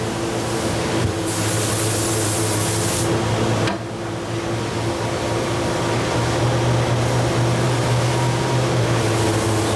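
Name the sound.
disc sander cutting Gibson guitar neck heel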